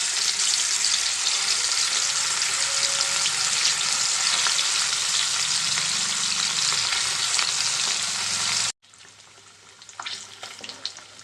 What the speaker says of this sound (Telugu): ఇప్పుడు దీంట్లో మనం మ్యాగ్నేట్ చేసుకున్న చేప ముక్కలను అయితే వేసేసుకుందాం.